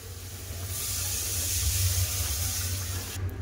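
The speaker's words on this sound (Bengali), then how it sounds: "এবার জল দিয়ে দেবো" Water pours into a pan of cooking fish curry with spices, a close, steady rushing splash over a low simmering rumble that lasts throughout.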